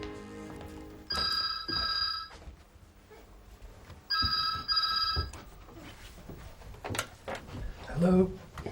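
Telephone ringing for an outgoing call, a British-style double ring tone repeating twice, fairly clear, with faint background sounds and a brief voice near the end.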